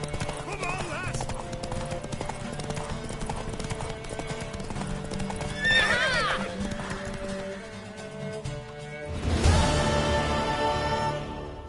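Horse hooves clip-clop steadily in a video game while voiced characters talk over them, and a horse whinnies clearly partway through, followed by a louder burst of activity near the end.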